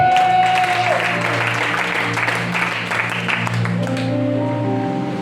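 A church congregation claps and cheers in a broad, continuous wash of applause. Sustained tones from instruments or singing ring underneath, and the clapping stays fairly loud before easing slightly near the end.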